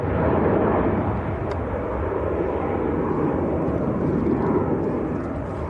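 An aircraft climbing away from Leeds Bradford Airport gives off a loud, broad, continuous engine roar that stays steady and unbroken for the whole stretch.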